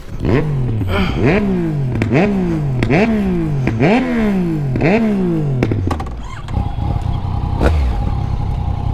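Yamaha MT-09 motorcycle engine revved hard about seven times in quick succession, each loud rise and drop close by, then settling to a steady idle with some clatter.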